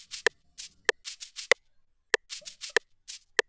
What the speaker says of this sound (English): the next thing I added was this kabasa sound.